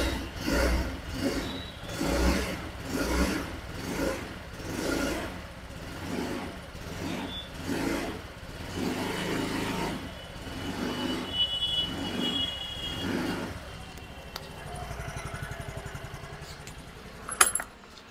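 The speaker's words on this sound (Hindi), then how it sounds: "बाकी जो इसका एग्जॉस्ट साउंड है वो आप सुन सकते हैं" A 2024 Yamaha Fascino 125 hybrid scooter idles with a soft, even exhaust putter, close and fairly quiet, with rhythmic low pulses early on and a brief click near the end.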